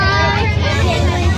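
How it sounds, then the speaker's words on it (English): Inside a bus on the move, a steady low engine rumble and road roar fill the whole stretch, with a murmur of passenger chatter mixed in underneath. "letting you listen to how my bus sounds every day"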